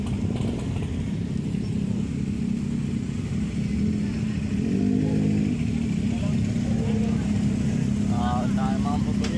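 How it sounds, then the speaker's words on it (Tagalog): Big bikes roll past on a road, a steady engine drone with a rising rev in the middle, while people talk and exclaim over it. "Tamaan ng mga big bike."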